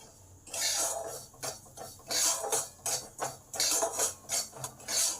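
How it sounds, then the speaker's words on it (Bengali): Semolina being stirred in a pan with a metal spoon, giving repeated scraping, clinking strokes in a steady rhythm, close and fairly loud, with no one talking. "সুজিটাকে ভালো করে নেড়ে নেব।"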